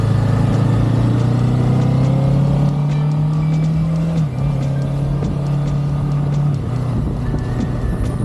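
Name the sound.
Kawasaki Ninja 7 HEV hybrid motorcycle engine kicking in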